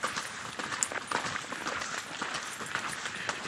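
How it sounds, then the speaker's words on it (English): A mule lopes under saddle, its hoofbeats falling in a quick, soft rhythmic patter at a moderate distance. The footfalls sit over a light background noise. "Got to lope like a pleasure horse."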